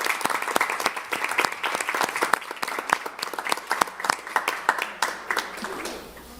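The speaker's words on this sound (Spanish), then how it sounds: "Un aplauso." An audience bursts into applause at a public event, dense rapid clapping from many hands held at a steady level before tapering off at the end.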